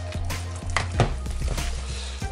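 Meatball mixture being mixed by hand in a bowl gives soft, close squelching and tapping sounds in an uneven rhythm, with occasional light knocks against the dish.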